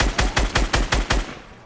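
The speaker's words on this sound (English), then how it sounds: "Oh, I was shooting in there." Automatic gunfire in a battle royale video game: a rapid burst of about seven loud, evenly spaced shots, close and alone, ending with a fading tail.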